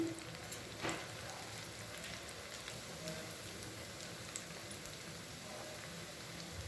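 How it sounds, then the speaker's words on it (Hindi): Snacks frying in hot oil over a medium gas flame, a soft continuous sizzle and crackle like light rain, steady and fairly quiet throughout. "तेल में डालने के बाद हम गैस की आंच मीडियम कर लेंगे और मीडियम फ्लेम पर हम इन्हें फ्राई करेंगे"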